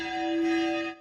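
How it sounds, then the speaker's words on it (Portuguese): The bell of the centuries-old Catedral Nossa Senhora das Mercês tolls in mourning, a single clear sustained strike ringing with strong overtones for about a second before it is cut off. "os sinos da centenária Catedral Nossa Senhora das Mercês badalaram, em forma de lamento"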